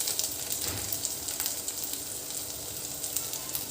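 Ginger garlic paste with chili powder frying in a pan for mutton liver fry, giving a steady, close crackling sizzle with small pops throughout and no talking.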